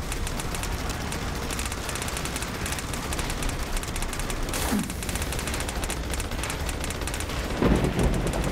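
Freezing bullets spray in rapid, dense bursts in the sci-fi shooter Battleborn, a continuous loud crackle of shots with a heavier impact thump near the end and no talking.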